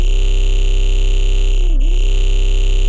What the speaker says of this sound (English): This is the thermal fluid. This is from the Pressure for Vital pack, as a matter of fact.